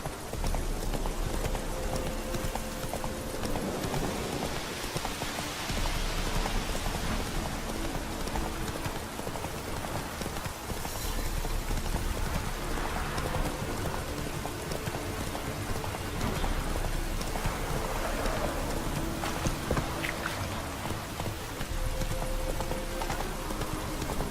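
Roach the horse gallops through rain in The Witcher 3, hooves beating a steady rapid clip-clop close by, with rain hissing throughout and occasional game sounds layered over it.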